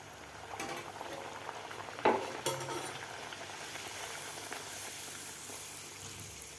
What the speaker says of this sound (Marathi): आता दुसऱ्या सुद्धा आपल्याला अशा प्रकारेच पुऱ्या तळून घ्यायच्या आहेत